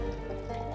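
Sand and water tailings pour into a dual nano gold sluice during a second tailings run, a steady, close trickling wash of liquid throughout.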